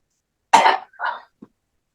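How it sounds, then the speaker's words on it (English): A man coughs nearby in a quiet room, one harsh burst followed by a second, softer cough and a tiny throat click. "I mean, coughing."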